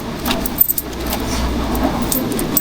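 Coins jingle and clink steadily as they are gathered up, a continuous metallic rattle close by with a few sharper clinks.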